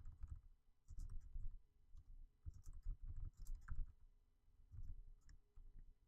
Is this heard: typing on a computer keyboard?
yes